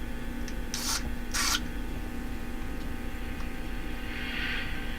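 Two short hissing bursts of DeoxIT contact cleaner spray into a vintage Addison five-tube radio, close and loud, over the radio's steady electrical hum, followed by a softer hiss near the end.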